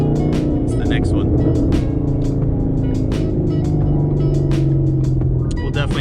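A car's engine pulls hard under acceleration with a steady loud drone and rising rumble while people talk inside over it.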